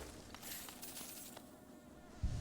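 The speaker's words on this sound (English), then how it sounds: "They sound like bees" Bee-like enemies buzzing in the video game Hollow Knight, a faint, wavering insect drone with a few brief louder swells, no talking.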